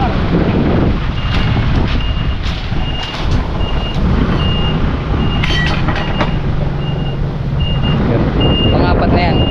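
A truck reverses at a building site with its alarm beeping at a regular pace, backed by a loud diesel rumble, wind buffeting and clattering machinery noise.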